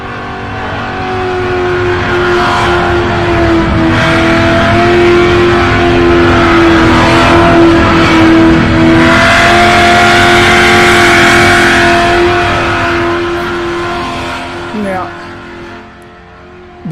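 Drift racing cars roar and rev loudly and steadily, a sustained, harmonic-rich engine wail with occasional tyre-skid hiss and a sharp bump near the end, captured up close, with people talking faintly underneath.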